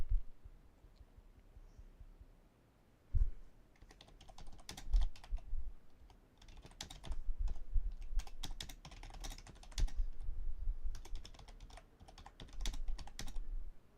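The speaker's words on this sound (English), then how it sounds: "Sorry if you could hear me typing aggressively." Rapid, forceful clacking of a computer keyboard in irregular bursts, close and fairly quiet, with short pauses between flurries of keystrokes.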